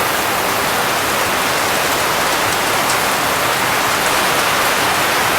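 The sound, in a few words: heavy rain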